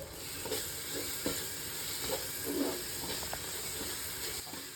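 Ginger garlic paste fries with shallots in oil for mutton biryani, a steady soft sizzle and hiss with occasional stirring scrapes, close and continuous, no talking.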